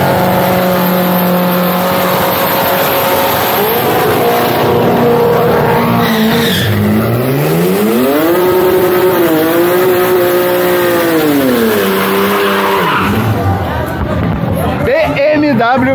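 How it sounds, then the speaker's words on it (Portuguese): Race cars, a Chevette 2.0 16-valve and a six-cylinder BMW, rev hard and spin their tyres in loud burnouts at a drag strip, engine pitch rising and falling with squealing rubber, under crowd chatter and voices. "esse pessoal aí dá uns burnoutaço violento"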